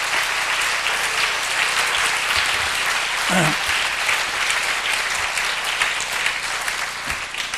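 A church congregation applauds to give glory to God, a dense, steady wash of clapping that fills the space for several seconds, with a brief voice rising through the middle and the applause easing slightly at the end.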